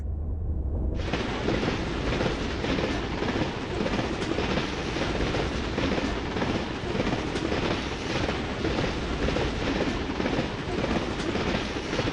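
A train rolls past in a loud, continuous roar of wheels and rattling carriages, starting abruptly and sustained to the end without any talk.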